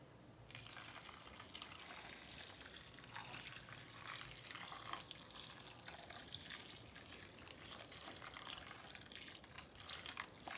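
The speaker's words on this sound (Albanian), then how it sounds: "Do t'i hedhim ujë të nxehtë." Hot water poured steadily into a baking tray of rice, a continuous splashing stream running for about ten seconds with no talk.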